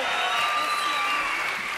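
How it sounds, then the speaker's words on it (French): Applause from a television studio audience welcomes the Bormann sisters, two English guests, onto a French variety show, a steady dense patter of clapping with bright tonal music or a sustained voice running through it. "Applaudissements pour les accueillir."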